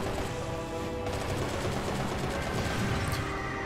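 Rapid gunfire rattles in the Bayonetta video game, a dense, loud burst of shots and mechanical clatter filling the whole stretch with no voices over it.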